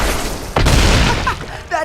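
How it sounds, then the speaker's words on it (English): Stampede effect from the MTG Arena card game, a loud sudden rumbling boom with heavy low-end thunder that swells and rolls on for over a second, with faint voice-like tones near the end. "That's the sound of a stampede coming straight at ya."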